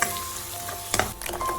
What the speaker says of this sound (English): Mix it and saute well.